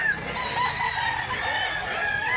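Rooster crowing at an outdoor chicken market in Mantalungon, Barili, Cebu, a single drawn-out crow rising and falling, clear and fairly close over steady market background.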